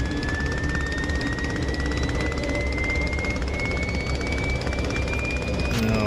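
Sopwith Camel biplane in the DCS flight simulator, its rotary engine at full RPM, a loud, steady droning roar with a faint rising whine that fills the whole stretch without a break.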